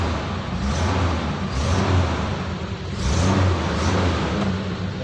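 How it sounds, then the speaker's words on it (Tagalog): A 1990 Nissan Safari engine being revved after a carburetor adjustment, its steady mid-range drone rising and falling in a few swells, loud and close with no talking. "Ganda pa bumatak ng makina."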